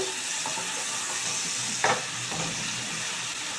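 Pumpkin and potato pieces fry in a pan, a steady close sizzle with a couple of brief scraping stirs partway through.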